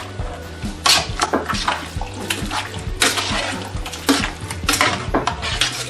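Metal spoon scraping and clinking against a pot while beef stew with diced tomatoes and green chilies is mixed, with repeated irregular knocks and scrapes close up, no talking.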